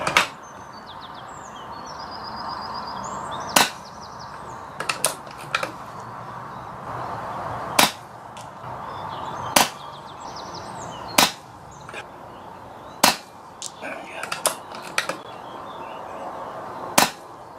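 A Daystate Wolverine air rifle, running under 12 foot-pounds, fires at targets on an outdoor long-range shoot. About a dozen sharp, close cracks come at irregular intervals, some paired, over a faint background hum with no speech.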